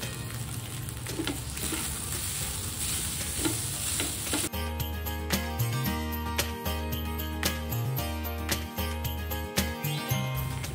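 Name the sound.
cooked rice and black pepper stir-fried for egg fried rice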